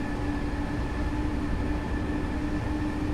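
A BR 425 electric multiple-unit train in Train Simulator runs at full power, making a steady loud rumbling drone with a constant motor whine that neither rises nor falls.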